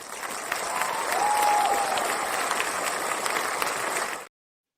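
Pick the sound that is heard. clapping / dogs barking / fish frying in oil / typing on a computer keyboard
clapping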